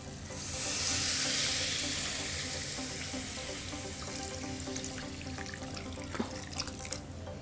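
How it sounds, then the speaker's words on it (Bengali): Water is poured into a frying mixture of masoor lentils and potato, starting as a loud hissing rush that settles into a steady bubbling sizzle with a few clinks, close up and without speech. "এবার এর মধ্যে আমি জল দিয়ে দিচ্ছি।"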